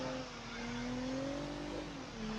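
A rear-wheel drive V6 car in a racing game, its engine holding a steady drone and then rising in pitch as it revs, with a brief dip near the end and no talk.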